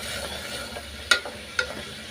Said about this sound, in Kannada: ಒಂದೊಂದೇ ಫ್ರೈ ಮಾಡ್ಕೊಳ್ತೀನಿ.